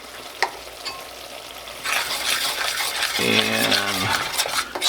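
Softened onions sizzle and fry in a pan as flour and salt are stirred through them, a steady close crackle with scraping strokes, getting louder once the stirring starts.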